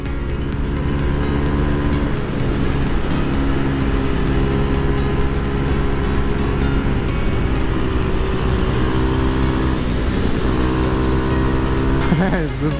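A Jawa 250 motorcycle engine runs steadily while riding on a cold autumn day, with a loud, continuous two-stroke drone close to the microphone, holding an even pitch before a brief change near the end.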